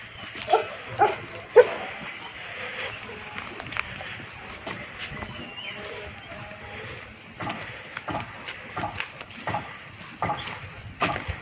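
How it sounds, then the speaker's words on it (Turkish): Several Belgian Shepherd dogs bark in short, uneven bursts, some loud and close, with whimpers and yips in between and a low background of movement. "Şimdi köpeklerimizin yanına gidelim."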